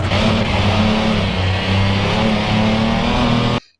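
A rally car's engine held high toward full RPM on a narrow stage, a loud, steady, strained roar with strong low harmonics that runs without a break and then cuts off abruptly.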